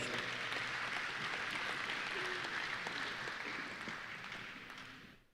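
A banquet audience applauds an honoree at a Texas DOT safety banquet: dense, steady clapping from many hands that holds evenly for several seconds, then tapers and fades out.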